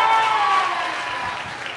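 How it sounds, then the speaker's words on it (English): Applause from an audience at a Veterans Day ceremony in New York City, a steady soft patter of clapping at moderate distance that fades slightly as it goes on. "Let's give them a big round of applause."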